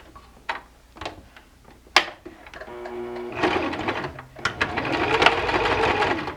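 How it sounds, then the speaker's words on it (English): A sewing machine runs a straight stitch on fabric for a zippered box pouch, starting with a few isolated clicks and taps, then breaking into a fast mechanical whir that stops briefly and resumes, close and loud. "I'm going to do a straight stitch here on the sewing machine."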